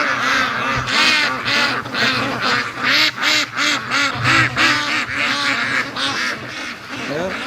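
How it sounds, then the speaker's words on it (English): Wild ducks quack loudly and continuously near a lake, many birds calling at once in dense overlapping bursts with a steady rhythm throughout. "Those wild ducks, they're not leaving."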